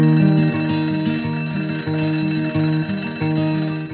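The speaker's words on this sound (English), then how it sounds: "coming awake to an alarm bell with a sudden start is not the best way to do your life" A mechanical alarm clock bell rings loud and steady, a fast continuous metallic clatter filling the whole stretch close up, with no voices over it.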